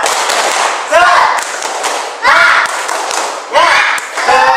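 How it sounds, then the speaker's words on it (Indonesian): A school class performs 'tepuk semangat' spirit clapping, with sharp bursts of rhythmic group claps and shouted chanting that repeat in several loud, regular waves. "ayo kita tepuk semangat sekali lagi"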